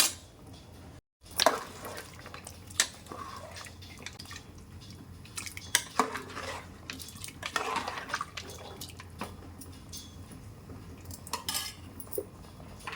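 Cooked mutton pieces are being stirred into sambar in a pot, with scattered clinks of a metal spoon against the vessel and soft wet sloshing and drips, fairly quiet and intermittent over a low background hum.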